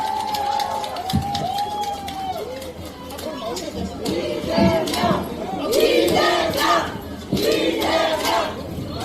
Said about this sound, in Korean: 함성 부탁드리겠습니다.